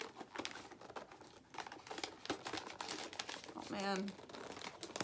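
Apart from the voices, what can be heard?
opening a package from fan mail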